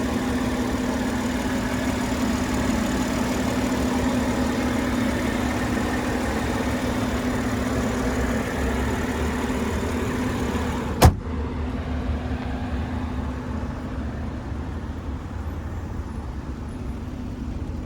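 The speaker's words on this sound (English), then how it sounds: "there's that 3-liter inline 6 with a twin scroll turbo" A 2021 Toyota Supra 3.0 Premium with a 3-liter inline-six twin-scroll turbo engine idles in a steady, even hum. One sharp click lands near the eleventh second, and the idle continues slightly quieter afterward.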